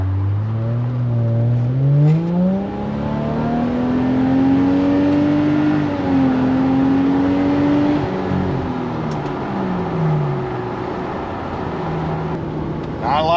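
Subaru Outback 3.6R with a WRX catback exhaust, heard from inside the cabin while driving, its engine drone rising and falling through gear changes as a steady low grumble, with someone talking over it.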